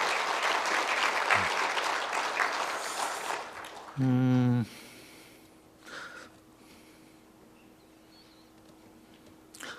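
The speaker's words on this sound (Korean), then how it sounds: "격려의 박수 한 번만 더 하겠습니다" Church congregation clapping in encouragement for the choir, a brief burst of applause at the start that quickly gives way to scattered noises and quiet.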